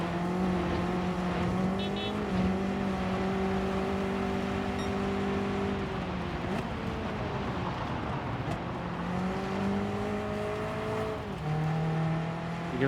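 A race car in Gran Turismo 7 heard from the cockpit, its engine note droning loud and steady, rising and falling through gear changes and revs as it laps a short track.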